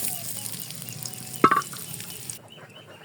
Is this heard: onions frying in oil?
yes